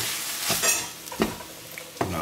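Rice stirring in butter in a pan, a soft sizzle with several distinct scraping strokes of the spoon, close and clear with no talk.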